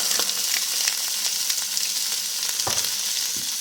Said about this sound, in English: We want these to cook kind of slow so they soften and caramelize at the same time.